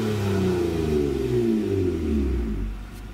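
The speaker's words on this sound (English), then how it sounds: "I'll go ahead and give you a little rev here." A 2017 Honda Accord Coupe V6 with an aftermarket resonator exhaust revs. The engine makes a close, steady drone that winds down smoothly in pitch and eases off near the end.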